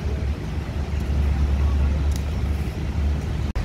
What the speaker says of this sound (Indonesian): Bus langsung melanjutkan perjalanan.